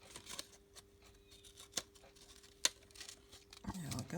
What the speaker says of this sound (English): These scissors I'm using are a Fiskars scissor